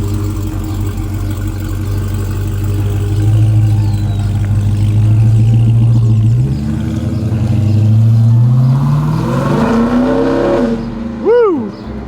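A powerful Dodge Hellcat engine roars and revs continuously, pitch climbing as it accelerates, then a sharp rising whine as it pulls away.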